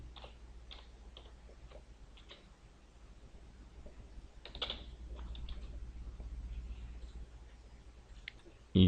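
Someone types text into a table field in CAD software on a computer keyboard, producing irregular bursts of quiet, close key clicks with short pauses between them.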